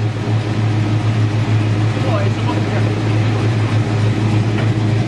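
A 1968 Dodge Charger engine runs at a high idle, giving a continuous, even, close-up rumble that holds steady throughout.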